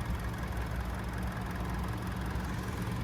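A 2023 Mercedes-Benz GLC 300 4MATIC with a 2-liter turbocharged four-cylinder and mild hybrid system idling, a steady, even low rumble heard close up with no voices.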